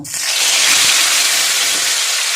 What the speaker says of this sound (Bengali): লবণ দিয়ে আমি আস্তে করে মাছগুলো ছেড়ে দেব।